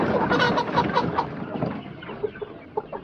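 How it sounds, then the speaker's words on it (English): Freedom Ranger chickens cluck inside a chicken wagon, a dense flurry of close, overlapping calls that thins out into a few scattered clucks toward the end, with no talking. "I don't think that many chickens are going to come out when I open this up,"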